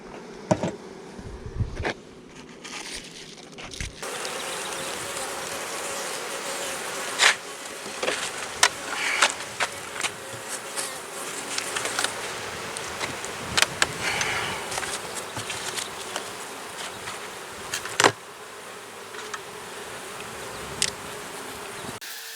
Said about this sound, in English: Let's get these bees down a little bit.